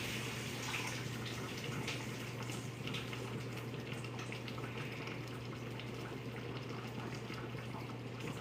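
Hot water from cooked potatoes being poured out of a pan to drain, a steady, faint rushing splash that continues evenly with a low hum underneath.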